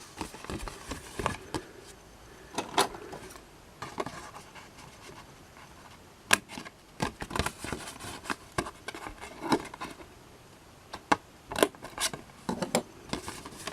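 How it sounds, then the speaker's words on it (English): Scissors snip through card in a long series of short, crisp cuts, irregular in rhythm, close and fairly quiet, with brief pauses between bursts. "then I'll finish it off with scissors"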